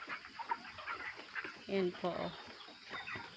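Broiler chickens at about day 32 on a farm in cold weather, with soft clucks and short calls under a voice speaking close by.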